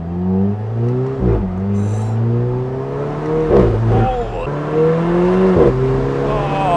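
An Alfa Romeo 4C sports car engine revs repeatedly and loudly from close range, climbing and dropping in pitch, with popping and crackling exhaust between the revs. No other sound covers it.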